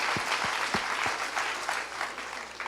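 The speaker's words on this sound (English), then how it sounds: "So give yourselves a round of applause." An audience at an evening talk on gratitude applauds itself, steady crowd clapping at moderate volume with a few sharper low thumps near the start, continuing evenly to the end.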